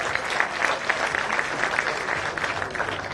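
Guests at a wedding reception clap together in a steady, moderately loud round of applause, many hands blending into a continuous patter with occasional sharper claps, no talking over it.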